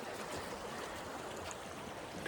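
Steady broadband rush of a stream and waterfall at a woodland campsite, continuous and fairly close, with no voices over it.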